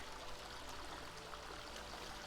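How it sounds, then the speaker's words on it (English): Creek water swollen about six inches after rainfall rushes over bedrock below a waterfall, a steady, full broadband wash of flowing water heard up close and alone with no voices. "Water's up about 6 inches after the rainfall 2 days ago. But as you can see, we got that waterfall right up there."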